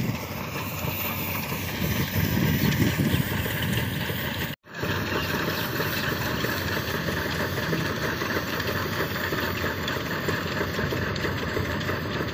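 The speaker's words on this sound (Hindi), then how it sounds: "भैया लेके आ रहा है ट्रैक्टर" A farm tractor engine runs steadily close by, a loud continuous idling rumble broken by one brief dropout midway, with no talk.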